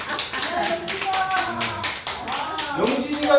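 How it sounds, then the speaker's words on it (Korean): Church congregation clapping during a sermon: a string of quick, sharp, fairly regular claps, close and moderately loud, mixed with talking voices throughout. "박수."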